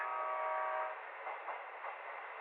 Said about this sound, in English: The train is approaching!